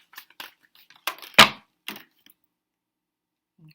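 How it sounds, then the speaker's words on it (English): Tarot cards being shuffled by hand during an energy reading, a few quick papery riffles and slaps in separate bursts over the first two seconds, then near silence. "I'm gonna shuffle this up"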